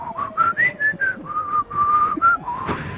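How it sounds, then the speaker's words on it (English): A person whistles a wavering, uneven tune of several short notes, fairly close and alone, ending with a brief breathy noise. "Okay, so now you're bad at whistling."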